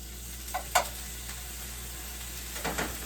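Minced garlic goes into a hot pan and sizzles quietly, with a few sharp scrapes and taps from stirring. A low steady hum runs underneath, and no one talks.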